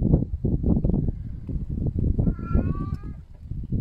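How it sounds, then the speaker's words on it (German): A male cat calls out with a drawn-out meow near the end, heard under loud, continuous close-up talking. "Mein Kater ruft."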